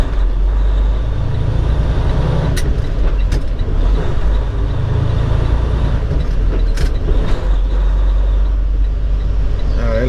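Heavy truck engine droning steadily near and loud through upshifts toward seventh gear, a low rumble with brief clunks and rises, with some faint talk in the cab.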